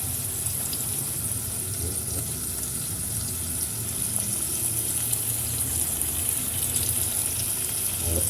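Onions sautéing in a pan for a snail and mustard sauté, a steady, close hissing sizzle with bright crackle that stays even and unbroken, no voices over it.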